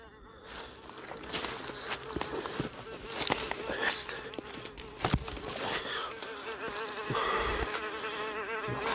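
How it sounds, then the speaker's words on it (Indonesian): Many flies swarm in an area reeking of a carcass, their buzzing dense and continuous, swelling and fading close by alongside footsteps and rustling. "Kok banyak lalat?"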